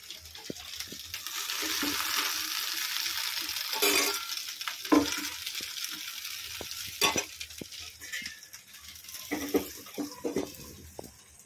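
Taro stems cooking in banana leaf in a wok give a continuous soft sizzling hiss, broken by scattered clicks and knocks, at a moderate level throughout.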